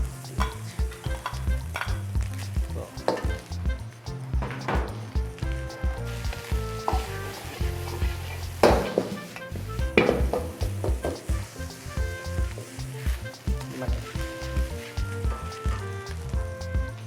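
White rice stir-fried for restaurant-style Young Chow fried rice in a pan, giving a loud, continuous sizzle with steady scraping and stirring strokes throughout, heard alone without talk.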